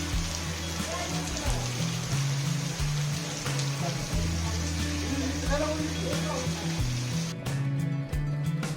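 Heavy rain patters steadily on a surface throughout, with people talking and moving around underneath it.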